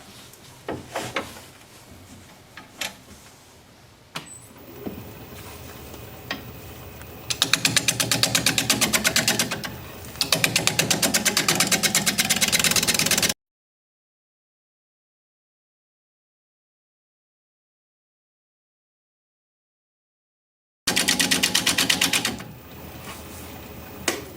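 A wood lathe turning a root ball bowl makes loud mechanical whirring and gritty scraping in rhythmic bursts, stopping for several seconds of silence before starting again.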